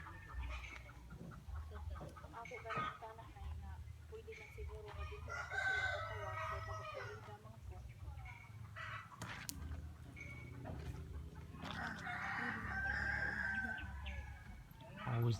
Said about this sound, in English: Always the sound of chickens.